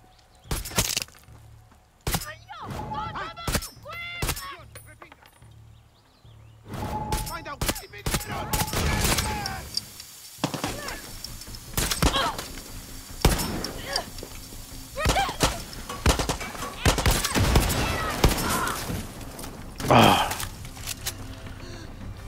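Video game gunfire in Far Cry 6: bursts of sharp cracks and rapid volleys come in clusters through the clip, loud and close, with someone talking and reacting between and over the shots.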